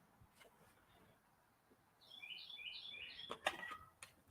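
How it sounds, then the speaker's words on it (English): Birds singing outdoors, faint and somewhat distant: a quick series of high chirps and short warbling phrases begins partway through, with a couple of sharper calls near the end over a quiet outdoor hush. "Now, you hear those birds? Boy, they sound beautiful."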